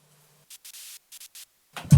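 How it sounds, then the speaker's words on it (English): Filtered white noise bursts from a dubplate-style music production track, in a choppy rhythm of five or six short hissy chops, followed by a sudden louder noisy hit at the end. "listen, the white noise"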